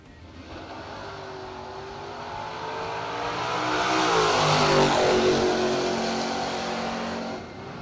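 A Chevrolet Nova drag car launches and accelerates down the strip, the engine roar swelling as it approaches, peaking loud and close, then fading as it passes into the distance.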